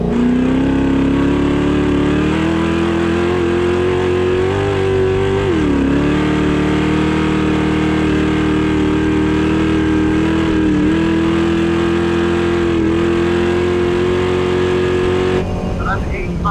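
An 830 hp Ford Bronco King of the Hammers off-road racer at full throttle, a loud, steady engine roar heard from inside the cabin with slight pitch shifts, a brief lift near the end, and people talking over it.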